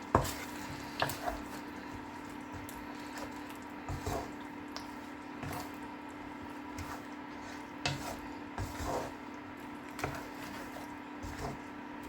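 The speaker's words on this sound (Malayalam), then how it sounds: "ഇതെല്ലാം കൂടെ ഒന്ന് കൂട്ടി യോജിപ്പിക്കാൻ പോവാണ്." Green chicken curry mixture stirred in a pan with water added, soft intermittent scrapes and wet squishing clicks over a faint simmering background, quiet and close.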